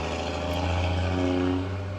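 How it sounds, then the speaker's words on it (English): A loud truck passes outside, its engine giving a steady, droning rumble that holds throughout at close range. "loud truck, sorry about that"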